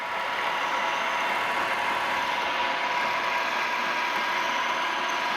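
A metal lathe runs at about 1,200 RPM turning a custom shaft, a steady even whir and hum that stays constant throughout with no talk.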